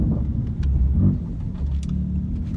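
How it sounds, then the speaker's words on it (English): BMW M2 fitted with an M Performance exhaust, its engine giving a steady low rumble with a slight swell around the one-second mark, heard close and continuous without any voices. "the M Performance exhaust is definitely a recommended part for your car"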